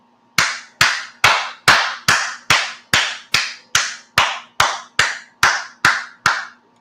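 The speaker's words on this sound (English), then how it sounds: "Girl, we need you to clap, clap." Fourteen sharp hand claps in a steady, even rhythm, loud and close, with brief silence between each clap and no voices.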